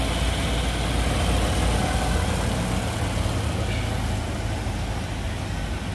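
A 1992 Ford E350 cargo van with a 5.8 liter engine idles nearby, a steady low rumble with even vibration throughout and no speech.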